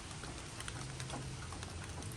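Water drips off a gutter guard during barely any rain, a steady fine patter of droplets close by, continuous and even with no voices.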